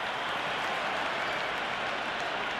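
A stadium crowd in the video game Cricket 26 applauds during an IPL match, a steady wash of clapping and crowd noise that stays loud and even throughout.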